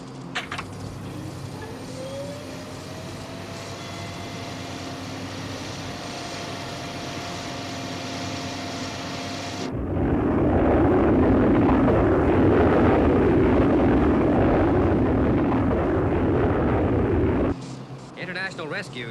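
Thunderbird 1, a TV-series rescue aircraft, gives a steady jet drone under radio-style dialogue, then swells into a louder, deeper roaring rush for several seconds as it changes to horizontal flight.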